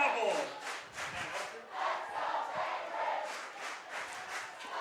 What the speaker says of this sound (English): You can hear the crowd out here. We've got Let's Go Bainbridge.